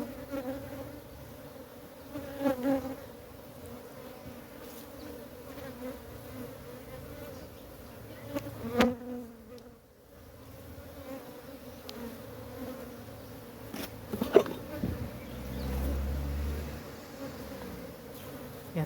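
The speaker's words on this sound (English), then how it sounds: "this box has so many bees" A dense, steady buzz of many bees inside a hive box fills the recording, with occasional louder swells and a low thump near the end, no voices.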